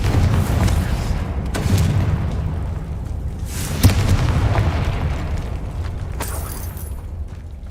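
A Confringo spell in Hogwarts Legacy fires, and a deep boom bursts out, followed by a rumbling blast amid continuous game noise, with a further sharp crack shortly after.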